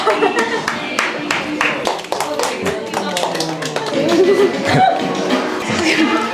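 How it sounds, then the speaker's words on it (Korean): A small street crowd on a shopping street applauds after a card magic trick, light scattered claps close by, with voices and chatter mixed in. "신기하셨다면 박수 조금만 부탁드릴게요."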